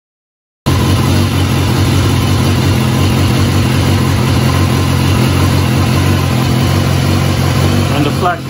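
A 2014 BMW S1000R motorcycle engine starts and settles into a loud, steady idle nearby, holding an even throbbing rumble with a slight dip near the end.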